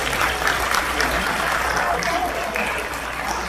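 Broad, steady applause from a room of barangay village leaders at a city climate gathering in Quezon City, a thick even roar of clapping with voices mixed into it throughout.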